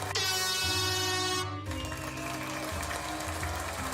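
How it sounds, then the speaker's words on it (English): Loud air horn blasts, a sustained harmonic honk that shifts pitch partway through and continues to the end, close and alone. "air horn."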